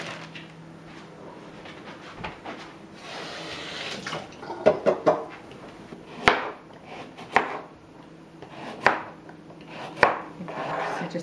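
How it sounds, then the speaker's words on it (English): Carrots are washed under a kitchen tap: soft running water and rubbing, followed by a series of sharp knocks and clunks on a hard surface, close and moderately loud, no talking. "I'm just going to give them a wash under the tap"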